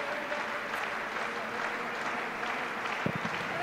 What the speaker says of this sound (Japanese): その岡山サポーターの拍手のもと